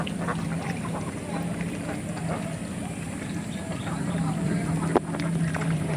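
Ducks quack amid a steady, noisy outdoor background, with a person talking over them.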